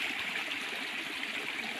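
Water leaks out at the Greenko hydroelectric project, a steady rushing flow heard at moderate distance, constant and hissing like a stream, with no talk.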